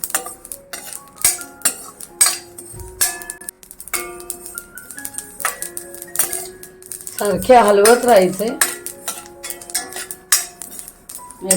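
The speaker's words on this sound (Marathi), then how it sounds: "आता आपले तीळ पण भाजत आले भाजायला लागले की असे चटचट आवाज येतो" Sesame seeds dry-roasting in a pan give scattered sharp crackles and pops, mixed with the clink of a spoon stirring against the metal pan, while someone speaks briefly.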